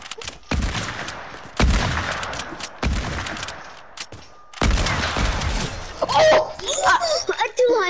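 Gunfire in the battle royale game Fortnite, several loud bursts of shots and impacts spread across the clip with brief gaps, ending in a jumble of effects while players talk over it.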